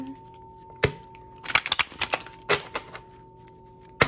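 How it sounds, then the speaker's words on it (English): Quick bursts of crisp riffling and clacking cards, a few sharp snaps followed by a rapid flutter, heard close with a faint steady hum underneath. "Shuffle this once more."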